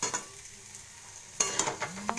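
Potatoes frying in a pan for Punjabi aloo dum, stirred with a steady sizzle that jumps into louder scraping and crackling bursts partway through, close and continuous, with no talk.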